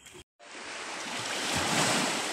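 Sea waves roll onto the shore in a steady, loud wash of surf with some wind, briefly cut off near the start and then swelling again.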